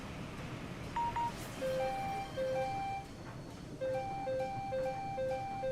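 A livestream chat alert jingle plays alone at moderate volume: a bright electronic melody of short repeated beeping tones, one high note followed by a run of rapid stepping notes, over low background hum.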